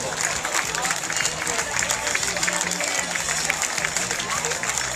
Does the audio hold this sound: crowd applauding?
yes